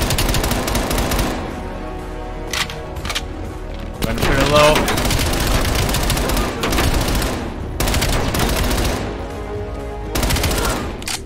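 Automatic gunfire rattles almost continuously in a Black Ops Cold War story mission set at KGB headquarters, loud and close, with bursts and brief pauses and a few faint voices underneath.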